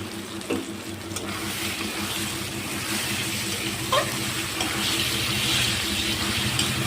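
Fried potato and eggplant go into a pan for a spiced lote fish dish, giving a steady, fairly quiet sizzle with a few clatters from handling the pan.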